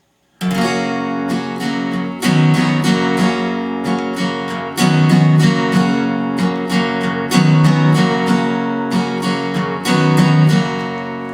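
Acoustic guitar in open D tuning strummed in a steady rhythm, full chords ringing with open strings, played alone and up close.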